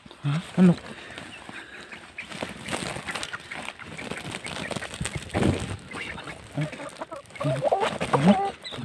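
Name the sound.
chicken clucking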